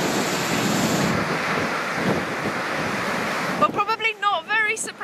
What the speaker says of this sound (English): I'm literally getting blown about by the wind.